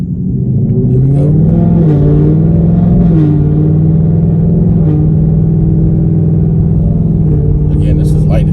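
A deep V8 exhaust rumble from a 2024 Mustang GT with Kooks Green Catts rises steadily in pitch under light acceleration below 3,000 RPM, a smooth throaty drone from close by, engine tones climbing then holding.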